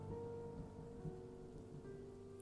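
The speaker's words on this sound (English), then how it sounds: "The rain had come in quite quickly this time around." Steady, faint rain falls throughout, a constant soft wash with a low rumble and no voices, in the background of a creepypasta reading.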